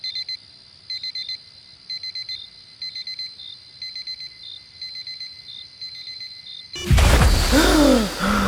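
A digital alarm clock beeps in regular rapid bursts roughly once per second, then stops abruptly as a louder rustle and a breathy sigh or groan take over near the end.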